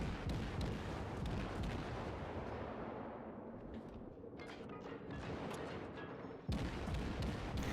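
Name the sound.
Kuma cruiser firing shells in World of Warships video game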